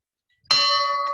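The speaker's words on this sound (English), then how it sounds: "I'll ring the bell." A single bell struck once near a home's indoor fountain area, ringing out with a sharp onset and a bright, sustained metallic tone that slowly decays, alone without talk.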